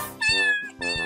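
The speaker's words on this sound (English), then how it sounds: "Cat." A toy cat's recorded meow sounds twice in quick succession, close and loud, each a clear tonal mew with a bright electronic quality.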